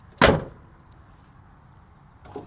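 A single solid door slam on a restored 1971 Ford Bronco, one loud close thud followed by quiet idle background.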